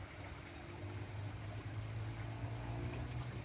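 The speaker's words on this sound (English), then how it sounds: "Oh, I can hear the water." Steady rushing water flows near a river in Bangkok, a continuous broadband wash with a low rumble holding at even loudness throughout, with no voices over it.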